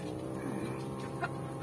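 Chickens at feeding time, including green junglefowl, cluck steadily and quite close, with one brief sharper call partway through and no talking.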